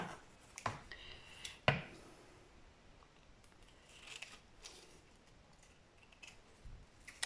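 Scissors cut a sheet of paper in half, a few crisp snips near the start followed by soft scraping and rubbing of the paper, close and fairly quiet.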